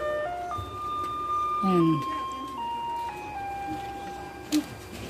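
A garbage truck in Taiwan plays its melodic tune as it approaches, a clear steady sequence of sustained electronic notes with someone talking over it and a brief sharp knock near the end.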